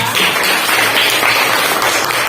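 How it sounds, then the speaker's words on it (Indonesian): A classroom of students claps for a classmate, giving a dense, steady round of applause that stays loud and close from start to finish. "tepuk tangan untuk Aula ya"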